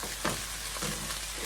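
Fried rice coated in soy sauce is stirred in a hot frying pan, a steady close sizzle with a few brief scraping strokes of the utensil, no talking.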